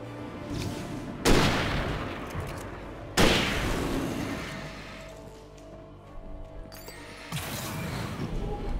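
Gunshots in the horror action game Alan Wake, a few loud booming shots spaced seconds apart, each trailing off, with mechanical clicks and rattles between them and no talking.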